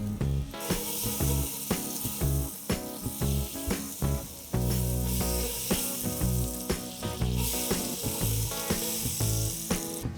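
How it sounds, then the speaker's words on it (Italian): Butter melts and sizzles in a hot Petromax FT9 cast-iron Dutch oven heated over briquettes, a loud, close, continuous crackle with sharp pops scattered throughout and no voices. "Passati circa 5 minuti aggiungo 250 g di burro."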